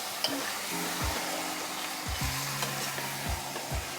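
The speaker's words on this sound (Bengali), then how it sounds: "এবার আমরা এটাকে হালকা করে মাংসটার মশলাটাকে ভেজে নেব," Mutton with spice masala is fried and stirred in a pan for a Bengali-style curry, giving a steady close sizzle broken by scraping stirs, with a faint low tonal hum underneath.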